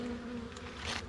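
Honeybees buzz steadily around hive frames, a close, droning hum with a few passing louder buzzes.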